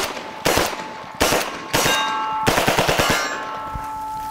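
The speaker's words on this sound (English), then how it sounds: "So I'm going to show you just how effective this is on steel at close range." Close-range shots from a UMP45 with its stock folded, firing incendiary rounds at a steel target about three feet away. Each shot gives a sharp ringing clang. Single shots come first, then a rapid burst of hits, and the metallic ring lingers between them. No voices are heard.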